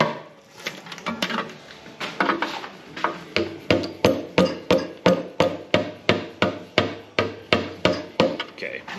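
A blunt, beat-up old chisel is hammered against a Buick 401 Nailhead engine during a teardown, giving a steady run of about twenty loud, sharp metallic strikes at an even, brisk pace, close and with no talk.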